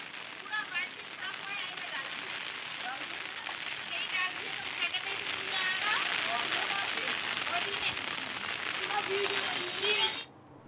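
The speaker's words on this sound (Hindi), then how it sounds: "शामली में सुबह से ही हो रही मूसलाधार बारिश से शहर टापू बन गया" Heavy monsoon downpour over a flooded town in Shamli, with streets and main roads under water; a dense, steady hiss of rain pours down continuously and fairly loud before cutting off abruptly near the end.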